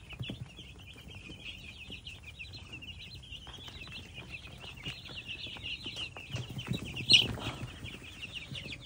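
Four-day-old broiler chicks peep in a steady, high, continuous chorus close by, with soft scuffling and one sharper call near the end.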